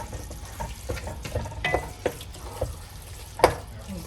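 Beans are stirred through a simmering curry in a pan, soft irregular scrapes and wet shuffles over a faint sizzle, with one sharper clink of the spoon near the end.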